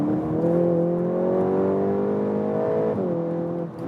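A 300 hp 2021 VW Golf GTI Clubsport in Nürburgring mode accelerates hard, its engine note climbing steadily before a quick gear shift drops the pitch and it pulls again, loud and close from inside the car.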